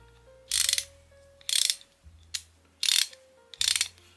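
A Parkside half-inch ratchet clicks in five quick bursts of rapid metallic ticking, close and crisp, with short quiet gaps between strokes and no voices.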